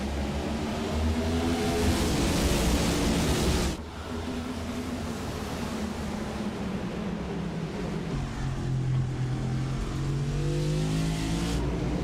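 Stock-style race cars roar around the Watkins Glen road course in a sim racing video game, a dense, continuous pack of engine drone with rising and falling revs and a brief dip in intensity.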